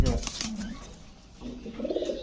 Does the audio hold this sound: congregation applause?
no